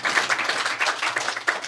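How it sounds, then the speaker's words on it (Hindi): A poetry recital audience breaks into loud, brisk clapping, a dense, continuous burst of many hands close by with no talking over it. "जोरदार तालियां।"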